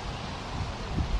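Outdoors, wind buffets the microphone as a continuous low, rumbling rush with brief gusty swells near the end.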